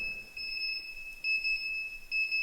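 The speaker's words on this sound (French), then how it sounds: "c'est mon réveil" An alarm clock beeps in a high, steady electronic tone that pulses on and off in repeated bursts, moderately loud in an otherwise quiet room.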